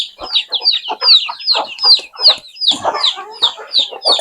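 Free-range native chickens clucking close by, a busy run of short, repeated calls overlapping one another without pause.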